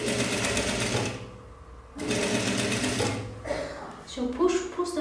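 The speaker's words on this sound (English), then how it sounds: "And I sew until the end here." Electric sewing machine stitching the bias-cut collar of an ao dai, running in a close steady whir that pauses briefly and restarts, then turns into lighter, uneven bursts near the end.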